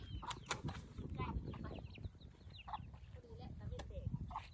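Chickens cluck and squawk intermittently nearby while people talk over them outdoors.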